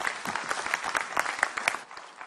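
Audience applause at a business talk as the speaker walks up to the stage, a brisk, dense clatter of many hands clapping at a steady, moderate level.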